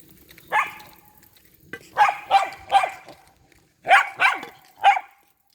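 A dog barks in short bursts: one bark, a pause, then quick clusters of two or three, moderately close against faint outdoor background.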